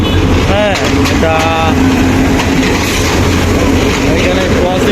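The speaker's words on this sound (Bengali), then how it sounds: "এই যে ট্রেন চলে আসছে শ্রীপুর" An intercity passenger train pulls into Sripur station in Bangladesh, loud and close, its horn sounding early over a heavy rumble of rolling wheels, with people talking nearby.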